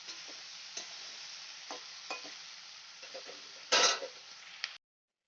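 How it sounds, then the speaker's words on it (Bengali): Mixed vegetables with turmeric, including flat beans, potato and eggplant, sauté in a pan over low to medium flame, giving a steady soft sizzle broken by several stirring scrapes and one louder clatter near the end. "এবার ভালো করে সবজিগুলোকে আমি কষিয়ে নেব"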